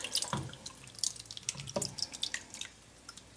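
Cream of celery sauce pours from a can over pork chops in a pan, giving soft wet drips and splatters in uneven bursts, close and fairly quiet, with no talking.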